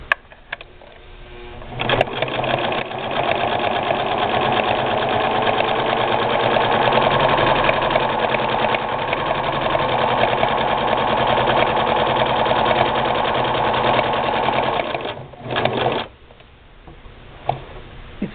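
A Singer 6212C sewing machine stitching at a steady run, its motor whirring with a fast ticking needle rhythm, close and continuous, slowing and stopping briefly near the end.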